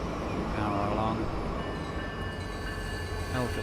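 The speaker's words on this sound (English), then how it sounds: "Should be a train coming along there any moment." In a train simulator game, a train rumbles past on electrified track, a low steady rolling drone with faint tonal whines and a brief horn-like tone late on.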